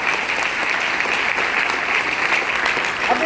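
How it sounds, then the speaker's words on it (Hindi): Loud audience applause fills the space, dense and continuous clapping from a large crowd for the whole stretch, with no voice over it. "चलिए एक बार जोरदार तालियां इसके लिए हो जानी चाहिए।"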